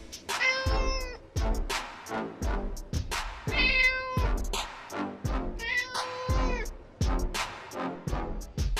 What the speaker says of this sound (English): Persian Cat.